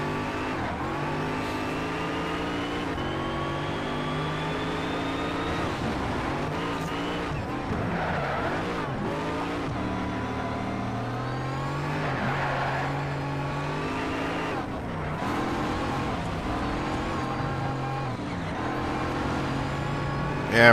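Race car engine revving and straining through gear changes on the track in Need for Speed: Shift 2 Unleashed, a McLaren-style Mercedes wrestled through corners with tire noise, a continuous loud drone across the whole stretch.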